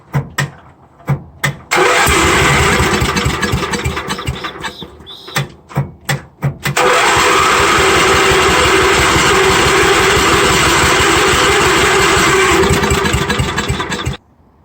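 A Lincoln welder engine mounted on a service truck cranks in short bursts with gaps, then catches and runs loudly at a steady pitch before cutting off at the end.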